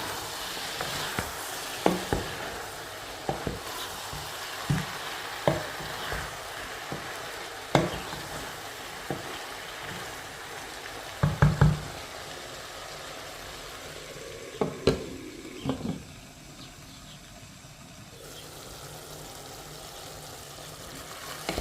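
Zucchini lecho frying in a pan with a soft, steady sizzle, broken by repeated knocks and scrapes as it is stirred, the clatter bunching up in the middle and thinning toward the end.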